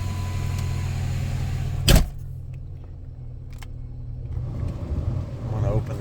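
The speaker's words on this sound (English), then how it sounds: "I'll go ahead and start the car up." A 2006 Lincoln Town Car idles in a garage just after start-up, a steady low engine rumble with a sharp click or clunk near the start and faint mechanical noises over it.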